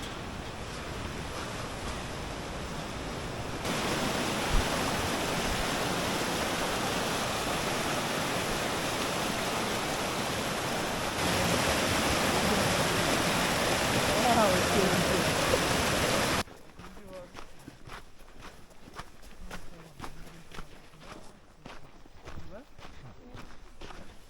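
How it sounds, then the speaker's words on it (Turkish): A river rushes loudly beneath a bridge on a mountain route in Kazakhstan's Tien Shan, a steady broadband roar. It then drops to a quieter scene with scattered crunching steps as someone crosses. "Şimdi böyle bir köprüden geçiyoruz nehrin üzerinden."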